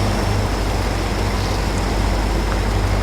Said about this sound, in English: Engine sound is pretty decent on this thing, isn't it?